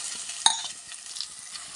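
Crushed garlic and ginger frying in hot oil in a home kitchen, a steady soft sizzle with one sharp clink of a utensil near the start, no voices.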